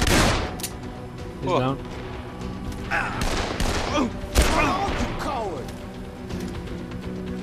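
Guns fire in scattered, loud bursts and thuds in Dead Island, close and chaotic, with people talking and exclaiming over them.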